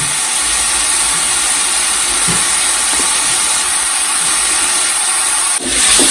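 Shallots hitting a hot pan while cooking an Idukki-style boti (tripe) curry give a loud, steady hiss of sizzling oil that runs unbroken through the clip, with a brief clatter near the end.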